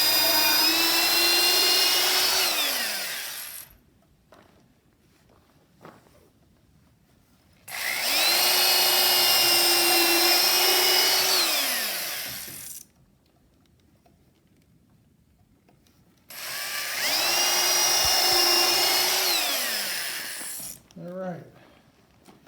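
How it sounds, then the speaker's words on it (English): A power drill whines in three long bursts with quiet pauses between while drilling holes in wood for a bench swing arbor, its pitch climbing as it spins up and dropping as it winds down. "So I can drill these holes with it"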